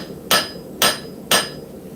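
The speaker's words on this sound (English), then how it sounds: "you want to hammer on both sides. And the trick here is hammer in the same exact spot" Three loud, sharp hammer blows land on hot steel during forging, evenly spaced about half a second apart, each ringing briefly before fading, with no voices.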